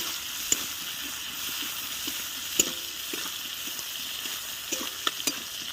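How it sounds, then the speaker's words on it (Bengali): Chopped onion fries in a pan with a steady close sizzle, punctuated by a few sharp clicks and scrapes from stirring, no voices. "এবার দিয়ে দেব কেটে রাখা পেঁয়াজ, পেঁয়াজটা ভালো করে একটু ভেজে নিচ্ছি"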